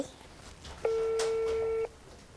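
A single steady electronic telephone tone lasting about a second, loud and clear over a quiet background.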